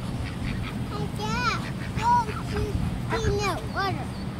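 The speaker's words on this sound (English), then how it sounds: "Feed the ducks in front of you." Ducks at a pond being fed bread give repeated nasal quacks and honks close by, while people talk over the calls.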